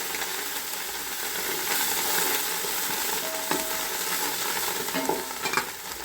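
Handful of coriander leaves frying in a pan with chili powder while making homemade biryani masala, giving soft continuous sizzling with light spoon scrapes and a few clinks, close and fairly quiet, without speech.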